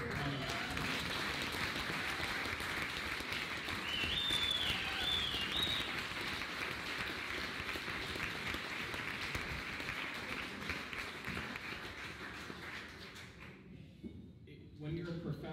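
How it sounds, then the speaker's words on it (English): Applause from an audience for a doctor who has spoken out, a steady wash of clapping from a fairly large room that fades toward the end, with a brief whistle partway through. "we, I think, owe him another round of applause for coming out"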